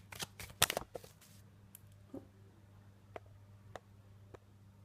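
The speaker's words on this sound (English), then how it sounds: "Sometimes I get a little bit too enthusiastic shuffling the cards." Tarot cards being shuffled with a few quick riffling bursts up front, then several sparse, faint taps and card snaps against a steady low hum.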